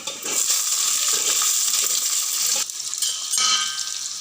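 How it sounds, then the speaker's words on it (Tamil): Onions dropped into hot oil for a kurma, bursting into a loud, close sizzle that eases slightly partway through. "அடுத்தது வெங்காயம் போடுறேன்"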